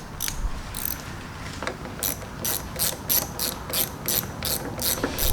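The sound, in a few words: ratchet tightening bolts on Murray lawn mower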